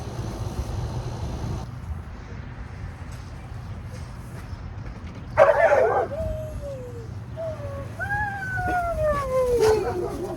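A pet dog greeting its owner at home, a sharp yelp followed by several rising whines and whimpers, fairly close over a low room hum.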